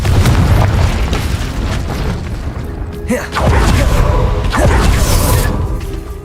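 A booming fiery blast from the Confringo spell goes off in the video game Hogwarts Legacy, followed by a second burst amid loud combat noise and rumbling.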